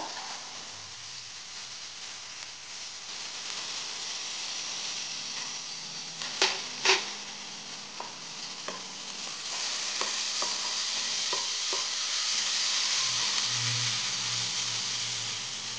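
Garlic paste frying in oil for bhindi masala, a steady soft sizzle close by with a few sharp clinks and scrapes of a utensil against the pan partway through.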